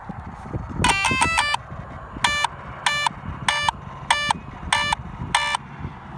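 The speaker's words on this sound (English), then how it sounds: "Six beeps for 6 cell." A Traxxas Slash 4x4 RC car's ESC sounds startup beeps for a 6-cell battery: a quick cluster of electronic tones, then six evenly spaced beeps, close and clear over faint background noise.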